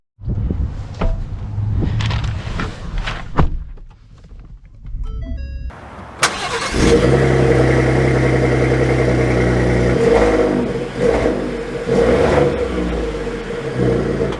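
A 2023 Ford F-150 Tremor truck starts up with door chimes and a few clicks, then its engine catches and rumbles loudly and accelerates with rising and falling revs close by.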